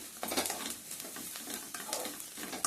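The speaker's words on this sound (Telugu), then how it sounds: "ఓకే, ఉల్లిపాయ చక్కగా వేగింది." Onions fry in a pan with a quiet, continuous sizzle, broken by several soft scraping stirs of a utensil against the pan, and no voices.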